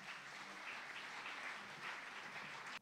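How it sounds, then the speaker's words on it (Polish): An indoor audience applauds an award winner at a school prize ceremony, a steady dense clapping that stops abruptly at the end with no talking. "Brawa dla Soni."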